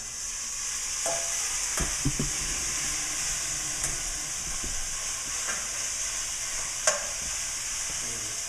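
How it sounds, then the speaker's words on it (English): Steak meat sizzles in a hot pan with a continuous, even hiss close by, marked by a few faint clicks and small pops and no talking. "And you just take your meat and you just dump it in there."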